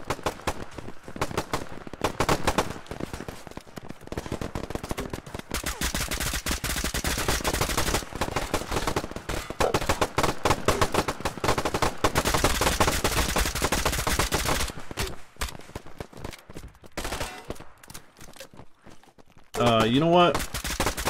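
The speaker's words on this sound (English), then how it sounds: "A lot of infantry from the southwest, taking quite a bit of shots from that direction." Rapid gunfire from the video game Operation: Harsh Doorstop crackles in long, dense automatic bursts, loud and sustained, with brief pauses between volleys and a short stretch of talk near the end.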